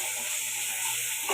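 Potatoes, onions and ginger-garlic paste fry in oil in a pan, giving a steady, close sizzle with a faint stirring scrape near the end.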